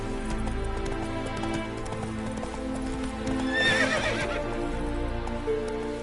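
A horse in The Witcher 3 clip-clops steadily with hooves at a gallop, letting out a high whinny midway, over a dense layered game soundscape with a soft rain-like wash.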